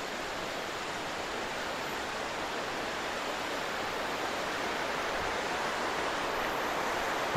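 Flowing river at Chor River campsite in Kampung Sahom, Kampar, Perak, a steady broad rushing wash of water close by, constant and unbroken with no voices.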